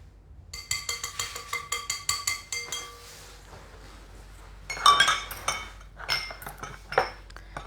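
Cake batter for a rose cake being beaten in a bowl, heard as a rapid run of close clinking and scraping strokes, a pause, then a second messier burst of beating, with no talking.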